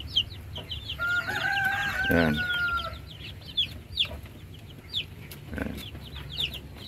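Three mother hens cluck on a farm, with a drawn-out crow and scattered clucks near the microphone over a steady rural background, while someone briefly speaks.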